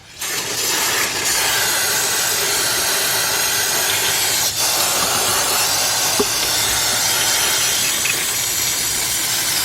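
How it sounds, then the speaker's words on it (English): A continuous loud hiss of carburetor cleaner sprayed from an aerosol can onto a leaking BMW oil cooler filter adapter. The spray runs steadily for nearly ten seconds, close up, with one brief break. "let's get some carburetor cleaner and clean this up"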